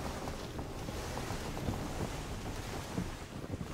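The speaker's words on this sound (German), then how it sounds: "Und der Wind dreht einen total weg zur Seite." Wind gusting at sea in the video game Skull and Bones, a steady rushing roar with wave wash underneath, moderately loud and continuous.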